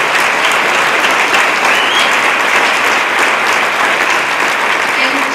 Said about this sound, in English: And definitely worth an applause.